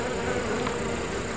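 Giant hornets and honeybees buzz steadily at a beehive where the hornets are gnawing into the hive, a dense continuous drone that stays close and even with no talk.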